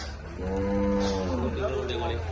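A calf moos at a cattle market, one drawn-out, fairly loud bovine call heard close by over steady market background noise.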